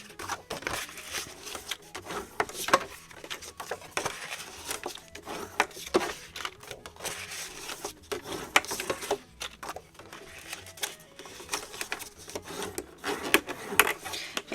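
A blank paper folio base being folded by hand along its score lines, a close, steady stream of soft rubbing, creasing and papery scraping with small taps.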